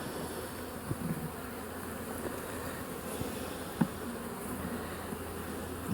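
Bees swarm around an open hive where fresh wax comb is being drawn out, a steady dense buzz filling the air throughout, with a few brief louder passes close by and no talking.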